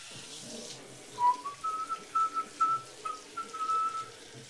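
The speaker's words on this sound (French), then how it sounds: "Premier test, la douche." Shower water runs steadily over a Blackview Active 8 Pro rugged phone in a waterproof test, a constant hiss while someone whistles a short tune close by.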